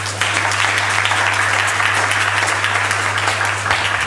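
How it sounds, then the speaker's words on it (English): Loud, dense applause from a conference audience at a gender equality event, sustained clapping that holds steady throughout with a low electrical hum underneath. "Another round of applause for Nana Tishua."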